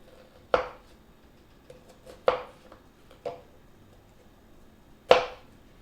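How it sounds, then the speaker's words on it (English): Onions being chopped on a cutting board, four sharp knife strikes spaced irregularly apart, close and distinct against a quiet kitchen background. "I'm still chopping onions."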